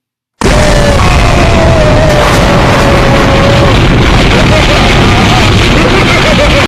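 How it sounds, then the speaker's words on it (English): A sudden loud explosion effect, a dense roaring blast that slams in after a brief silence and sustains at full loudness without fading, with no talk over it. "This is a perfect time for a random explosion effect."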